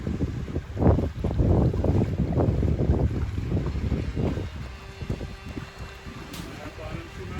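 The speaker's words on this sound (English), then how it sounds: "Little bit of breeze coming in. It's blowing about 6." Breeze of about six knots gusting across a carbon sailing catamaran at sea, a low rumbling buffet of wind on the microphone with water and hull noise beneath, fairly close and steady throughout.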